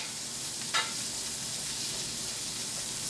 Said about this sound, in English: I don't know if you can hear that, but it's just like a really light sizzle.